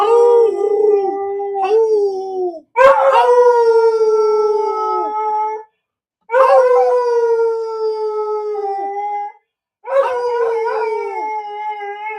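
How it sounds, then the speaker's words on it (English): A dog howls in long, sustained, wavering notes, loud and close, in three or four drawn-out phrases separated by short pauses, with no talk over it. "That is the best singing dog in the whole wide world."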